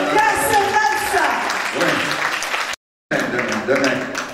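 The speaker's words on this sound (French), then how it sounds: "Applaudissons" A conference audience breaks into applause, dense continuous clapping filling the hall, briefly cut by a short gap before resuming just as strong.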